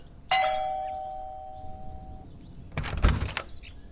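A doorbell gives one clear electronic chime that rings out and fades, then a short rattle follows, as from a door. It is a quiet sound effect in an indoor scene.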